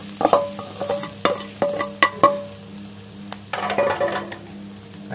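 Potato filling for batata vada gets stirred and sautéed in a pan, with a spoon scraping and clinking against the metal in uneven strokes over a soft sizzle, close and clear.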